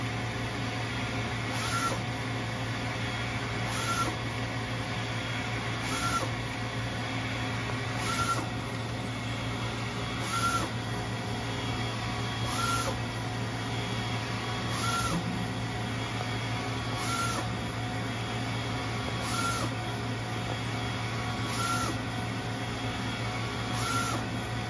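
A Mimaki UJF-MKIIe flatbed UV inkjet printer runs a papercraft print job, a steady mechanical hum with a repeating whir of the print carriage passing back and forth every couple of seconds, with no voices.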